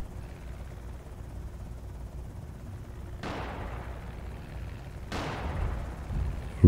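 Two gunshots in the Project Zomboid video game, each a sharp crack with a fading reverberant tail, spaced about two seconds apart over a low background rumble, with no speech.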